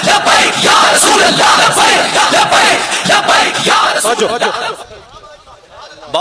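A large crowd at an Urs gathering shouts a rhythmic religious slogan together, loud and dense for about five seconds, then fades to murmuring before a brief burst at the end.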